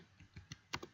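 Soft keystrokes on a computer keyboard while an NMAP command is entered, a handful of quiet, irregular clicks within a second.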